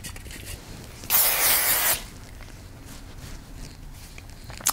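A single sustained hiss of hairspray lasting just under a second, close and fairly loud, against a quiet background.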